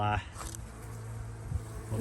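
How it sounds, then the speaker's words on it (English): Bees buzz close by in a low, continuous drone, brief and loud, with a whirring hum that shifts as they move. "Covered in bees."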